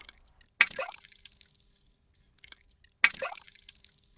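Two separate drops of water land with a splashy plop, a couple of seconds apart, each trailing off into a short liquid ring.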